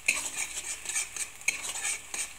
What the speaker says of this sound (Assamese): এইখিনি মই এতিয়া ভালদৰে লৰাই দিছো